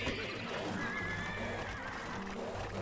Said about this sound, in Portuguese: é o meu cavalo chegando aí